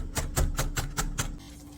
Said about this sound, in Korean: 고추씨는 빼지 않고 같이 다져줍니다.